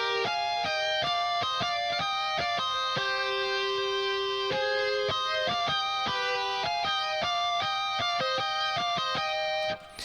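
Lead soundfont guitars play a bright, busy synthetic melody of rapid repeated notes, loud and continuous with no talking, cutting off at the very end.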